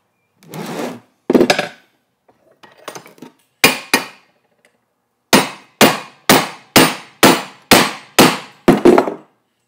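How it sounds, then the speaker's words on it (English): Hammer blows flatten a metal ground plate for a lightning rod tower: a few scattered strikes, then a steady run of about nine loud, evenly spaced ringing hits close by, with no talking. "Hammer, hammer, hammer."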